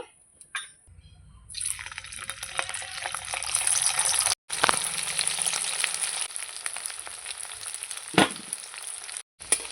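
Egg barfi pieces fry in oil in a wok: a quiet start gives way to a sustained popping sizzle, broken by two brief cuts to silence.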